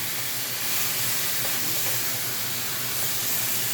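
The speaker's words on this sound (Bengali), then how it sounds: "1 চামচ সোয়া সস, একটু নুন আর 1 চামচ গোলমরিচ, এটা দিয়ে ম্যারিনেট করা চিকেনটাকে এবার একটু ভাজা ভাজা করব।" Marinated chicken coated in vinegar, soy sauce, salt and pepper frying in a pan, a loud continuous close hiss that holds steady throughout with no talk.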